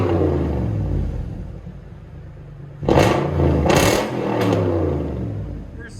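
Toyota Tundra V8 through a straight-pipe true dual exhaust: a deep idle rumble erupts into three loud, close revs at the midpoint, each rising and falling back to a burbling idle.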